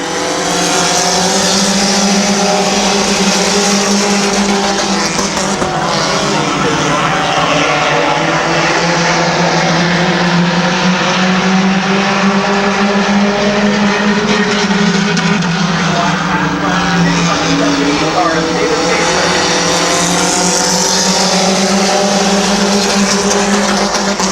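Race cars roar around Midvale Speedway in a continuous loud, layered engine drone with rising and falling pitch as the pack circles the track, sustained throughout.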